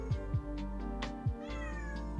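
A nearby cat gives a run of short, low meows in uneven rhythm, three or four calls over a couple of seconds against a constant indoor hum.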